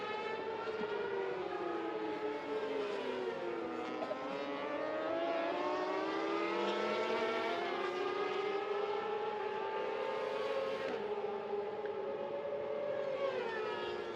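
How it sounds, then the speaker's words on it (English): Two SS600 racing motorcycles run together on a track during practice in Japan, their high-revving engines whining loudly and continuously, with rising and falling pitch as they shift and pass, no talk over them. "Two bikes running together."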